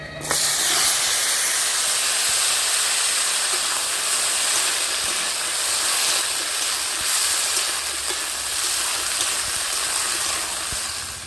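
Two bay leaves tempered in hot oil with whole dried chillies on a clay stove make a loud, continuous sizzling hiss that holds steady throughout.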